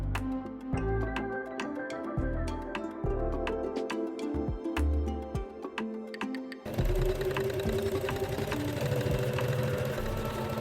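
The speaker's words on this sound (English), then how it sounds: "Top stitch the folded hem." A sewing machine topstitches a folded hem on wide pants, giving a rapid mechanical whir with short starts and stops. Partway through, the tone changes to a denser and steadier run, and no voices are heard.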